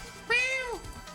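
A human voice imitates a cat's meow: one rising-then-falling mew about half a second long, fairly close and clear, with no other sounds around it.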